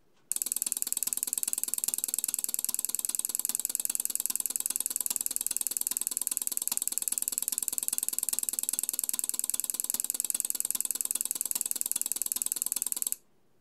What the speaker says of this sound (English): now I'm going to let the relays count through from 0 to hex FF.